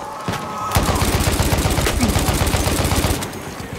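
Rapid, dense gunfire from Battlefield 1 set in snowy terrain, a loud sustained string of close shots and crackling reports running for about three seconds before trailing off, with no talk.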